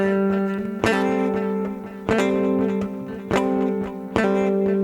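Electric guitar legato phrase played without muting the lower strings, giving sustained ringing notes with sharp picked attacks roughly every second, carrying effects and reverb, with no talking.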